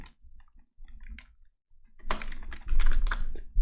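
Keys clatter on a computer keyboard, a few sparse taps at first, then a quick, dense burst of close typing with clicky strokes.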